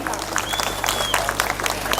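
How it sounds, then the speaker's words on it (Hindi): An audience at a political speech in Koliwada gives a patter of light, thin applause that runs under a speaking voice amplified over a PA system. "तालियां पीछे से बहुत कम आ रही है"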